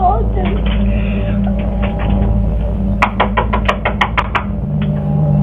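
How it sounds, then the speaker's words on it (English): Hand pounding against a door in played footage: a rapid run of sharp knocks in the second half, heard under continuous talk. "pounding her hand against the door"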